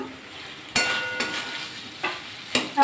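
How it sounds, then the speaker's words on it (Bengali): Okra, potato and green chillies fry in hot oil with a soft steady sizzle, broken by several distinct scraping clanks of a spoon stirring the pan, close and clear with no speech. "এবার কিন্তু ভেন্ডি আলুটা দিয়ে দেবো। 3টে কাঁচা লঙ্কাও দিয়ে দিলাম।"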